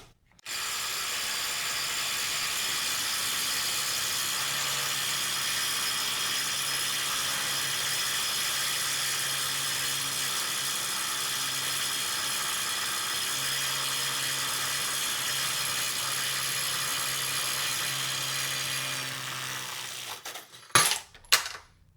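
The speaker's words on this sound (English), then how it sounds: "We'll go ahead and see how the Ridgid Sub-Compact performs and see if it's able to remove these fasteners." A Ridgid SubCompact impact wrench hammers continuously for about twenty seconds trying to break loose fasteners torqued to 250 foot-pounds, a loud steady rattling whine, followed by a few clanks as it stops.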